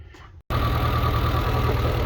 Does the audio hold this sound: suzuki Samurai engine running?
yes